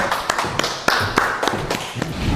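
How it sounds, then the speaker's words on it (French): Scattered audience applause on a dating game show set, a handful of distinct sharp claps with a thin bed of lighter clapping between them, fairly close. "Merci, applaudissez-la."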